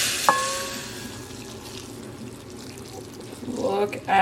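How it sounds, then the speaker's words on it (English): Hot broth poured over a bowl of beef pho, a soft continuous liquid splash and trickle close by, swelling louder toward the end. "Now I'm gonna pour over the broth."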